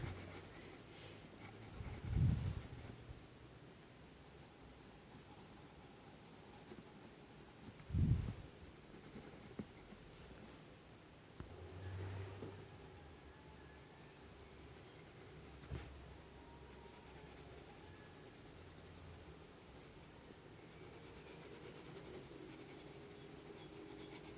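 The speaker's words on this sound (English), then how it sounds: "Here is another polychromos pencil, light green." Faber-Castell Polychromos colored pencils scratch and rub across paper in quiet, close strokes, with a few louder scrapes and soft shading sounds between them.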